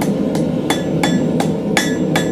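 Hot iron hammered over the edge of an anvil to bend stock for a forged candlestick, six evenly spaced ringing blows about a third of a second apart, loud and close over a steady background hum.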